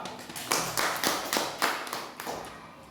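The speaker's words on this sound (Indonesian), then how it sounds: "tepuk tangan dulu untuk kelompok 2" Classroom applause for a student group after a presentation: uneven hand claps from several pupils, loudest in bursts around the middle and thinning toward the end, with no talk over them.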